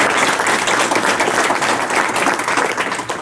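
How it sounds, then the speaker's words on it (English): Loud, dense applause from an audience in a training class, steady clapping filling the room for a few seconds and tapering slightly at the end. "Let's give them another great big round of applause"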